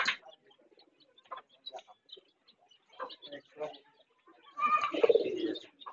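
Domestic pigeons coo in short, soft, intermittent bursts with a few chirps, close by, while someone speaks in between.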